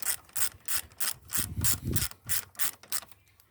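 Torque wrench tightening brake caliper bolts during a sliding pin service, giving a rapid series of rhythmic ratcheting clicks and rubbing metal strokes, close and fairly loud with no talking.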